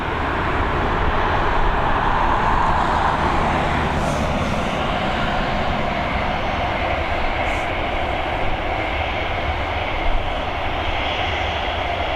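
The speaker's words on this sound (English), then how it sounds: "that ATR crew getting the memo and getting that rotation done nice and early" An ATR turboprop airliner rotates early on takeoff from runway 28L at Dublin Airport, its engines a loud, steady broadband roar held evenly at close range with no voices.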